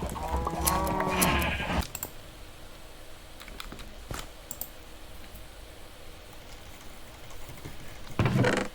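Sheep bleat in a Minecraft-style video game, a short harmonic bleat near the start over steady background noise, followed by faint clicks and a brief sound near the end.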